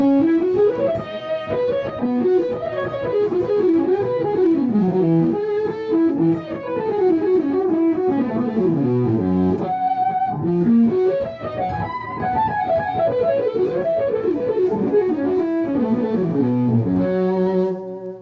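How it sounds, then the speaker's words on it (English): Electric guitar through a tube driver overdrive adding a little extra gain, in a studio rig, plays continuous singing melodic lines with sustained notes and bends, loud and close with no talking. "And then I'll use like a tube driver to just give it a little more gain."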